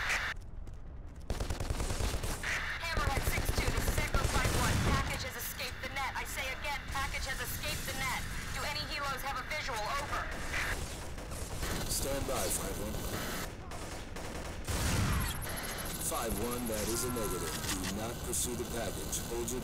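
Heavy shotgun fire in the video game Black during a city street fight, loud booming blasts in quick bursts mixed with crashing debris and game noise, with someone talking over much of it.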